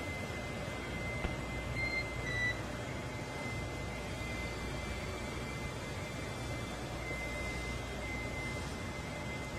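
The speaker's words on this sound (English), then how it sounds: "you'll be hearing those very characteristic beeps" Faint, sparse radio beeps ride on a steady hiss of static over the SpaceX Dragon communication link during a NASA crewed launch, with occasional brief tones standing out from the noise.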